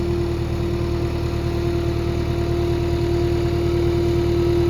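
A skid loader engine running at a steady idle, a constant droning hum with a strong even tone, close and loud with no talk.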